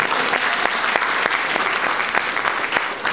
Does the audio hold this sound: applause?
yes